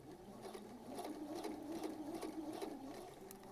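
A sewing machine runs steadily, stitching the seams of a dress sewn from a Butterick pattern, its motor humming with a fast, even needle rhythm and occasional faint ticks, fairly quiet and with no voices.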